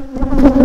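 Honey bees at a beehive fitted with a queen excluder give a close, loud, steady buzzing drone that swells slightly in a brief burst, with no voices.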